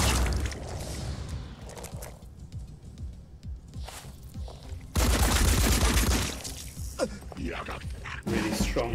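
Machine gun fire in the video game Phoenix Point: loud rapid bursts of gunfire with clattering mechanical and impact sounds, growing heavier toward the end.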